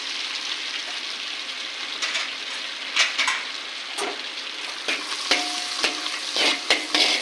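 Whole spices, including bay leaf, dried chillies, cardamom, cinnamon, cloves and shahjeera, crackle and sizzle in hot oil in a pan, with a continuous close hiss and intermittent sharp clicks and scrapes from stirring, and no talking.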